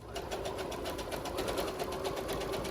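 A sewing machine stitching foam bra cups runs in a fast, even burst of rapid needle strokes, close and steady throughout.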